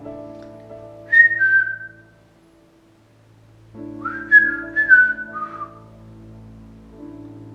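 Two bursts of human whistling in an old theatre during a paranormal investigation, a short sliding tune then a longer wavering phrase, fairly close over a faint steady hum, with quiet pauses between.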